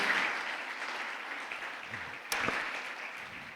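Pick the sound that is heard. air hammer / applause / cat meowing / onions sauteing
applause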